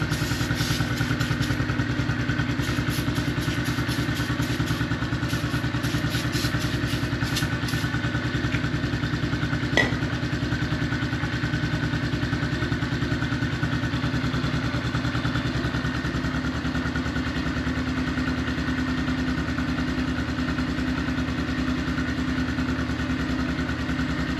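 Honda CRF 110 dirt bike engine idling steadily after an oil change, a continuous even putter at moderate volume, close by, with a faint rattle early on and no talking.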